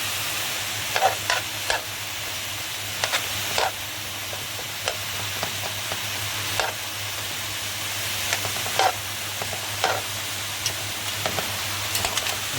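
Garlic fries in a pan with a little oil in a steady, close sizzle, broken by sharp metallic stirring clicks and scrapes every second or two, alongside a low constant hum.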